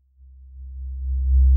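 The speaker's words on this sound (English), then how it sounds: "Here it is, it's a nice sine wave" A synthesizer plays a 65 hertz sine wave test signal, a low, steady hum that swells louder over its length, heard alone.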